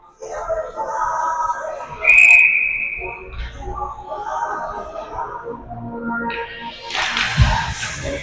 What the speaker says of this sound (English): 3 whistles in the last 5 seconds of play.